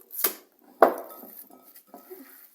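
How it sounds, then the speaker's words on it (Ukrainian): Fish mince with no egg is beaten in a bowl for lenten meatballs: two sharp slapping knocks against the bowl followed by softer, scattered smacks and clinks, close and fairly quiet, with no talk. "нам треба вибити оцю масу. Вибити хорошо"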